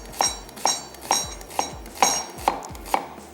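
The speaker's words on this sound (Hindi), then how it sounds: "चले जी, प्याज को स्लाइस कर लेते हैं।" A knife slices onions on a cutting board in a home-style kitchen. About seven crisp, evenly spaced chops land roughly every half second, close up and clear, with no talking.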